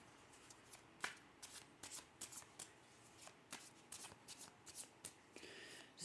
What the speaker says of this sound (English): Just a little bit more shuffle.